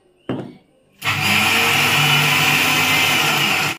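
A brief clatter comes first. Then a mixer grinder starts and runs with a loud, steady whine, grinding roasted peanuts with ginger, garlic, coriander and salt, and it cuts off at the end.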